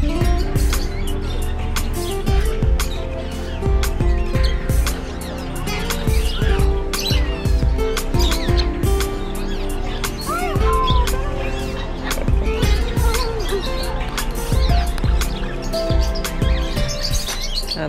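Parrots call outdoors at Parrot Ville Bird Park in St Maarten, with busy overlapping chirps, squawks and whistles, some close and loud, others farther off, over a dense steady background.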